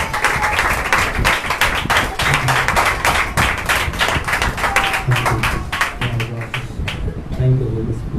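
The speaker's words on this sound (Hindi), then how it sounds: "आइए परमेश्वर का दास का हम स्वागत करेंगे जोरदार ताली के साथ।" Loud clapping from a church congregation at a Sunday service welcoming the preacher, a dense steady patter of many hands running throughout, with bits of music and voices mixed underneath.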